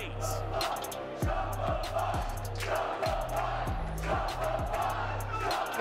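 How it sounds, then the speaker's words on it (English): Arena crowd cheering and roaring at a Halo HCS Major esports match in Arlington, a loud sustained swell with repeated low thumping beats underneath and a voice calling out over it. "The crowd going wild right now."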